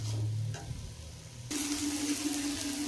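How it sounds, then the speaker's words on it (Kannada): Ridge gourd chutney ingredients frying in a pan over medium heat, a soft sizzle that swells suddenly into a louder, brighter crackle partway through, with no talking. "ಮಧ್ಯಮ ಉರಿಯಲ್ಲಿ ಇಟ್ಕೊಂಡು ಹುರ್ಕೊಳ್ರಿ. ಚೆನ್ನಾಗಿ ಎಲ್ಲ ಫ್ರೈ ಆಗ್ತದೆ."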